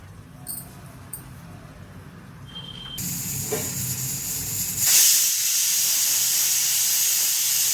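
Country chicken green curry steaming under a lid in the pot, a steady hiss that starts partway in and swells louder near the end, preceded by a few faint clinks and no talking.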